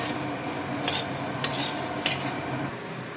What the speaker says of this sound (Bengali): ধনেটা ভেজে নিচ্ছি দেখুন